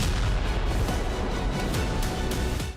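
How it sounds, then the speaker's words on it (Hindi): Continuous heavy rumbling with repeated booms and bursts from ballistic missile strikes on Kharkiv, loud and dense throughout, with no clear gaps between blasts. "खार्किव में लगातार धमाके होते रहे।"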